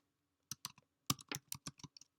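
Quick bursts of clicks from a computer keyboard, with several rapid keystrokes and short pauses between them, close and crisp in a quiet room with no talking.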